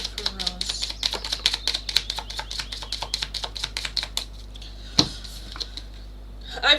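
Tarot cards being shuffled in quick, crisp repeated clicks and flicks that run steadily for several seconds, then break off into a few scattered taps and a louder knock.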